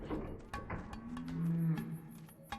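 A cow in the video game Pathologic moos in a long, low, drawn-out call that swells and fades, heard faintly over soft background game sounds.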